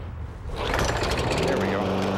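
A walk-behind lawn mower with a bagger, pull-started by hand because it has no battery start: a short, rough mechanical pull followed by the engine catching and rising into a loud, close, steady roar.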